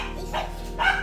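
A dog near a mountain village in the Philippines gives two short barks about half a second apart, moderately loud over a faint background hum.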